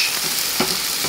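Egg whites sizzle and fry steadily in a hot frying pan, a loud, dense hiss filling the whole moment with no voices.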